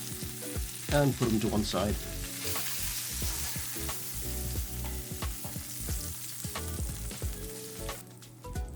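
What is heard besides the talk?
pork chops frying in a pan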